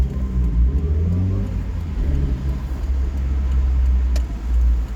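Small Daihatsu Copen 1.3 16v roadster driven with its convertible roof open, a low steady engine drone and road rumble with wind noise around the cabin, fairly loud and continuous.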